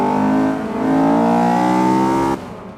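Race car engines in a Forza video game roar loud and steady, revving with a rising harmonic whine before cutting off abruptly near the end, no voices.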